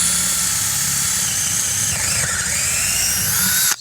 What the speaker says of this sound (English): Still drilling.